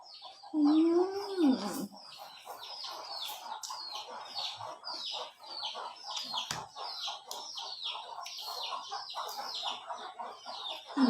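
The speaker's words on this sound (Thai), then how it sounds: "ยินเสียงไก่" Chickens cluck and chatter outdoors in a steady busy stream of short calls, with one louder squawk near the start; no one speaks.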